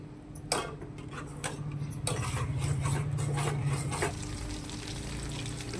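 Vegetables coated in salted flour are stirred in a hot pan, with a steady sizzle and repeated scraping strokes of a spoon, fairly quiet and close, no talking.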